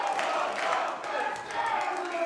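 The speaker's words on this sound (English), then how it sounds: "Listen to this crowd." A crowd at a New Japan Pro-Wrestling event in Sydney, Australia cheers and roars continuously. Many voices swell and dip, loud and sustained throughout.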